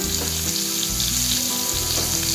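Raw mango and peanut chutney stirred in a hot pan, with steady loud sizzling and bubbling throughout and the scrape of a spoon moving through the mixture, up close.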